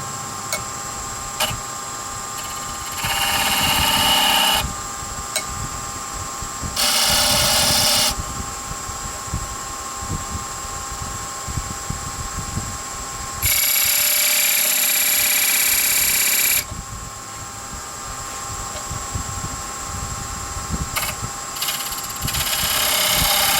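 A wood lathe turns a two-piece wooden spinning top while a tool cuts grooves into it, giving a steady whirring hum with several louder bursts of cutting noise that come and go. No one speaks.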